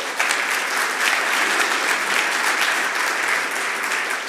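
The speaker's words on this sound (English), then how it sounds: "We'll give him a round of applause while he comes up." Audience at an infrastructure-as-code tech conference gives a long, steady round of applause as a speaker walks up to the stage, dense clapping from a sizable crowd with little else audible.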